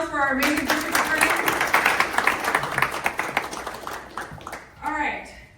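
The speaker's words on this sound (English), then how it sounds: "another round of applause for our amazing district attorney" A crowd applauds with steady clapping for several seconds, fading out as a voice speaks at the start and end.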